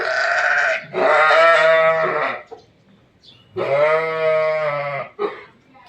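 Arashan sheep and newborn lambs bleat loudly and close by, two long wavering calls with quieter bleats between them.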